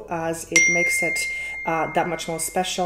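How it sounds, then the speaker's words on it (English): A bright phone notification bell chimes once through a computer during an indoor tarot reading. The ring is sharp and brief and lands over a woman's ongoing speech. "That's my phone going off, and I don't know how to prevent it from not ringing on my computer while I'm recording."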